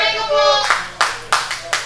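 Crowd at a wrestling show clapping in several distinct bursts, following a sustained harmonic tone at the start, fairly close and loud.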